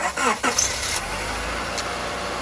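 A Honda Accord engine cranks and catches just after a spark plug change, then settles into a steady close idle with a brief rising rev.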